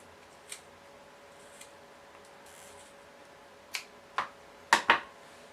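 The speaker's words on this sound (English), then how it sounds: "we are going to snip down the lines between the two sides of the frame" Small scissors snip through wound yarn on a pom pom frame, giving a few sharp, close cuts that cluster toward the end after faint earlier clicks in a quiet room.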